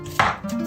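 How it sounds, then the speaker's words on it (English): A single crisp knife stroke through an onion lands on a cutting board, cutting it crosswise into thin slices, one short close thud-and-slice with no voices. "way I cut the onion is I don't cut it from pole to pole"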